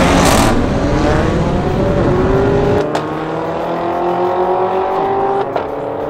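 A drag race between cars including a Mercedes CLA 45 AMG, with loud engines revving hard and roaring away, the pitch climbing through gear shifts as the cars accelerate off.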